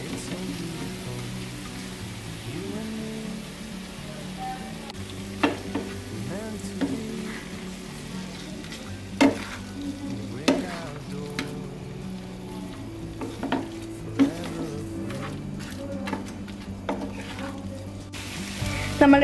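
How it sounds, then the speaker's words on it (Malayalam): Pieces of pre-fried fish being stir-fried in a pan for a restaurant-style fish chilli, with a steady sizzle and intermittent scraping clanks of the spatula throughout, no talking. "ഇനി ഇതിലേക്ക് നമ്മൾ നേരത്തെ ഫ്രൈ ചെയ്ത് വെച്ച ഫിഷ് ഇട്ട് കൊടുക്കാം."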